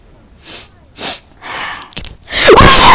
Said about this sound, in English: It's because that was my cough and I had to sneeze